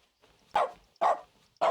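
A dog in the video game The Stanley Parable (2013) barks three times, sharp, close and evenly spaced, with short quiet gaps between.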